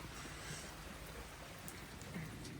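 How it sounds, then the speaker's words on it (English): Steady rain falling outdoors, a dense even hiss of drops on surfaces heard from a dry sheltered spot, constant and unbroken with no voices. "we're just sitting dry and watching it rain"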